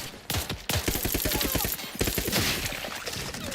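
Rapid automatic gunfire from a new weapon in The Outer Worlds 2, a dense burst of close, loud shots after a brief pause, continuing steadily to the end.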